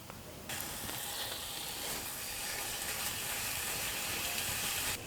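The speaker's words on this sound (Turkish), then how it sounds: "tencereye ekleyip unu iyice eze eze karıştırıyoruz" Choux pastry dough of oil, flour and water cooking in a pot over medium heat while being stirred and mashed, giving a steady, close sizzling hiss that starts abruptly and holds evenly throughout, with no talking.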